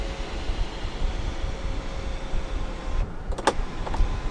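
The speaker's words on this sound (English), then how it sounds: "you do have a fully automatic sunroof itself" A 2013 Kia Sportage's automatic panoramic sunroof motor opens with a steady electric whir under constant background noise, followed near the end by a few sharp clicks and clunks.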